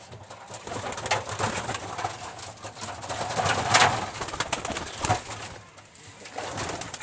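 Pigeons coo repeatedly at close range among a flock, with soft rustling and a few sharper calls layered over a busy background.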